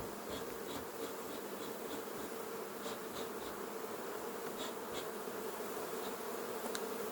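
A freshly settled honeybee swarm in Vaux-le-Pénil drones in a dense, constant buzz while being smoked out, with individual bees zipping close past now and then over the steady hum.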